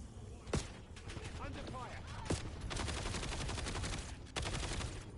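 Rapid automatic gunfire in the shooter game Black Ops 7, sharp bursts and sustained fusillades with a few loud single cracks, mixed with in-game effects and a voice talking over it.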